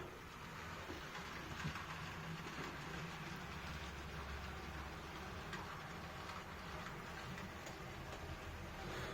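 A model HST train with a single powered unit climbs an incline on a layout, producing a faint, steady whirring rumble that stays constant and unbroken.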